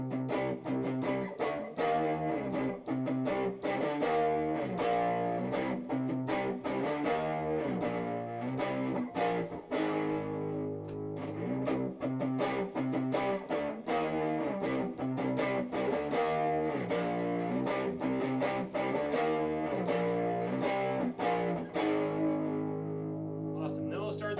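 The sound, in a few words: electric guitar power chords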